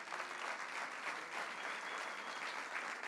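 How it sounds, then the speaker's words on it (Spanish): A church congregation bursts into sustained applause, a dense, even wash of many hands clapping at a moderate distance, with no speech on top. "dele un aplauso al Señor"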